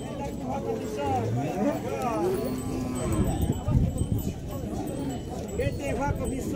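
Cattle lowing at a busy livestock fair in Brazil's Alagoas, with several drawn-out moos rising over constant crowd chatter and a trader's voice calling prices nearby.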